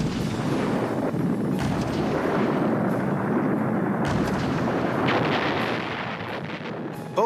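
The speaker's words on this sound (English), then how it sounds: "Heavy howitzers called Big Berthas blew towns to smithereens." World War I heavy howitzers, Big Bertha guns, keep up a dense, continuous roar of artillery fire and explosions, rumbling loudly throughout with overlapping blasts and no voices.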